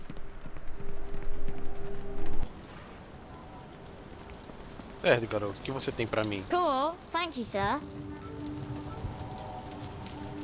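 Steady rain falls in Sherlock Holmes The Awakened, a soft continuous hiss that fades after a couple of seconds, while voices talk over a quieter backdrop.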